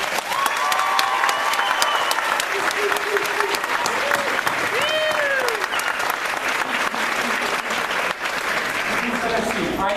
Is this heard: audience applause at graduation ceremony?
yes